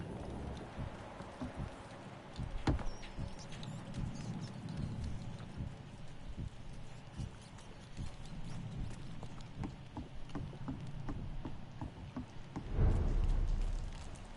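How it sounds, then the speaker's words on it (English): Steady rain pours throughout a dark night scene in the video game Dead by Daylight, a constant hiss with scattered drops and a louder low rumble near the end, with no voices. "It's raining."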